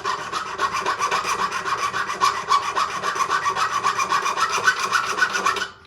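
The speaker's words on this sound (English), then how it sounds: "do it with a cut burr" A cut burr rounding off the ends of metal rods for barbell cufflink parts in a jewelry workshop, giving a fast, even rasping grind of rapid repeated strokes, close and loud, stopping abruptly at the end.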